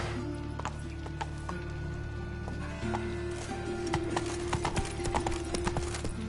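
Hooves of the horse Roach gallop at a steady pace in a video game, a continuous close clip-clop rhythm under a constant low game ambience, with no talk.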